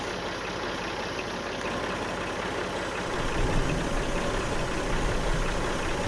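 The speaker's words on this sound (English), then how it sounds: "Must admit, I love this little tractor." Small tractor engine in the Farming Simulator 19 video game, carrying a full front-loader bucket on a farm, running steadily with a low, continuous rumble that swells slightly louder partway through, with no talking.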